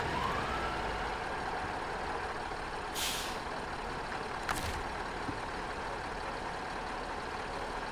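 A truck idles in SnowRunner with a steady, low engine rumble throughout, broken by two short hissing air-brake releases.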